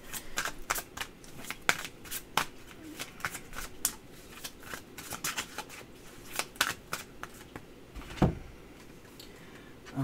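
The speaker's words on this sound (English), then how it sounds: "A couple more cards, please." Tarot cards are shuffled close up in a long run of crisp riffling flicks and soft slaps, irregular and sustained, with occasional louder snaps and no talking.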